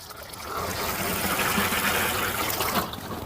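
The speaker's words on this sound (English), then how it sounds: "The next thing is to add some water to the hole." Water pours steadily into a dug hole for a fence post, a continuous close splashing and gurgling that lasts throughout without pause.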